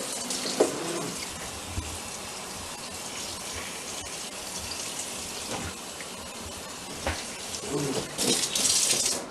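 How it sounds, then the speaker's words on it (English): Cold water runs steadily from a kitchen tap over boiled green bananas in a pot, a soft continuous gushing and splashing that swells near the end. "we're going to run some cold water over them"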